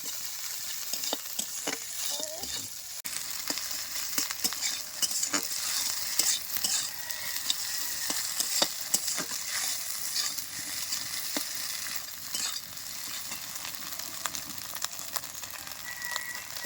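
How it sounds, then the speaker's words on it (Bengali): Noodles with egg and spring onion leaves frying in a pan, a soft continuous sizzle broken by repeated clicks and scrapes of stirring, fairly quiet and close with no talking. "ডিম দিয়ে পেঁয়াজ পাতা দিয়ে আমি সুন্দর করে ভেজে একদম ঝরঝরে করে নিয়েছি।"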